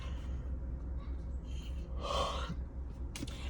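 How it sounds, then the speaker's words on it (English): A person gives a single breathy yawn in the middle, a drawn-out exhale that rises and fades over a steady low background hum, with no talk in it. "Excuse me, y'all. I'll keep yawning."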